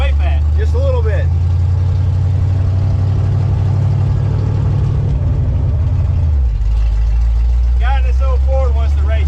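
A 339 small-block Chevy V8 running rich at a drag track, a steady loud rumbling drone that drops in pitch near the end, with someone talking over it at the start and near the end.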